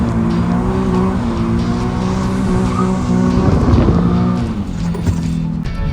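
Nissan 370Z on sticky tires held near redline while drifting, a loud sustained engine wail with layered harmonics and tire squeal rising through the middle, continuous and close with no talking.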